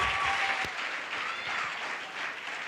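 A church congregation applauds in a continuous, fairly loud burst of clapping with a brief knock near the start, lasting nearly three seconds.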